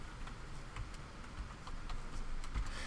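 Computer keyboard typing at a desk, a steady run of light, quiet key clicks with faint background hiss and no speech.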